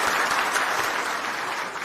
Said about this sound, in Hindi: उनके लिए मैं तालियों की गड़गड़ाहट से स्वागत चाहता हूं।